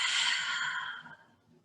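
A slow, breathy exhale during a yoga flow, one soft airy breath that starts fairly loud and close, then fades away over about a second and a half.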